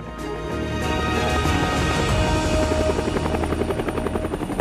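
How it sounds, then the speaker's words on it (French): A Bell UH-1 Huey military helicopter in flight during the Vietnam War, its loud rotor chop and turbine whine rising to a steady, close throbbing roar that fills the whole clip. "Aujourd'hui encore, je suis heureux d'entendre le son d'un hélicoptère."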